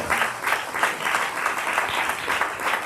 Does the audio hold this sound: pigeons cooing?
no